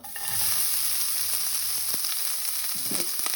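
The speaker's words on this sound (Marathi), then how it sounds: "तेल गरम जालें म्हणटकीर हांव आतां पियाव घालतां" Onion hits hot oil in a pan and bursts into a loud, steady frying hiss that holds close and even to the end, with a few faint clicks.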